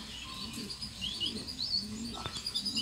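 Birds in the Birdland Paradise aviary game chirp with light, scattered high tweets over a steady low background hum.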